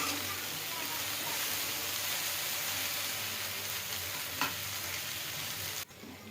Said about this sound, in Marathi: आणि आता ही मीडियम फ्लेमवर मस्त शिजत द्यायची आहे